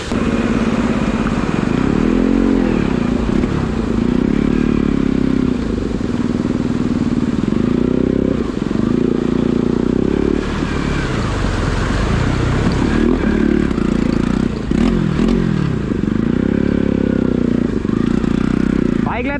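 A motorcycle engine runs steadily and loudly throughout, with a low rumble that swells and dips as it labours, apparently while riding out on the road near Begnas Lake around Pokhara; faint background voices sit under the engine.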